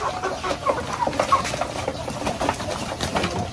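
Shamo roosters and hens on a chicken farm, with overlapping clucks and calls from the flock under busy background noise, moderately close, no voices.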